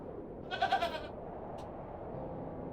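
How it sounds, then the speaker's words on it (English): Goat in The Excavation of Hob's Barrow lets out a single wavering bleat, fairly loud and close, followed by a brief faint tick over a quiet ambient bed. "The goat is still scary."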